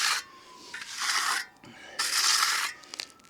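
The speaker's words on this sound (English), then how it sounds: "I am mostly just sort of letting the weight of the trowel do the work" A trowel glides lightly over a fresh concrete sidewalk in a couple of long, breathy scraping strokes, then a few shorter, quieter swipes, heard close and alone.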